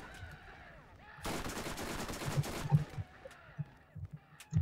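A legendary gun fires in the Borderlands video game, a rapid automatic burst lasting about a second and a half, then a few scattered pops and thuds at moderate volume, with no voices.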